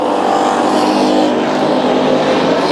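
Hobby stock cars race on a dirt track, their engines roaring loud and steady throughout without letup.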